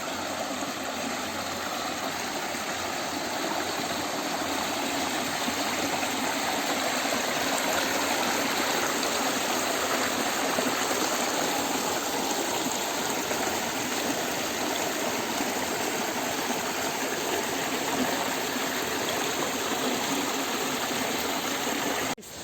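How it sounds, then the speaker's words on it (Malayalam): Continuous rushing water from the Kollam Kolli waterfall, a steady broad roar that stays even from start to finish with no talking. "നല്ല അടിപൊളിയായിട്ട് വെള്ളം ചാടുന്ന സൗണ്ടുകൾ"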